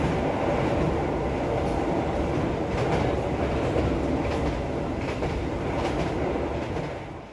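Loud steady rumble of the KA Mataram passenger train in Indonesia moving fast along the rails, with faint rhythmic clacks, continuous throughout and fading slightly at the end.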